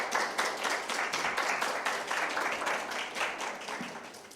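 Church congregation applauding at a Friday prayer meeting, a brief burst of dense, steady clapping from many hands filling the room, tapering slightly toward the end.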